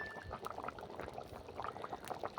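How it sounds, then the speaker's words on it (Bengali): Mutton and potato curry in a pot bubbles and simmers at a steady boil, a continuous fine crackle of popping bubbles heard close up, with no talk. "আমার মটন আর আলু টকভক করে সেদ্ধ হচ্ছে"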